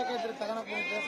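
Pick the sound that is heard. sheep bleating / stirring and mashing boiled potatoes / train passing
sheep bleating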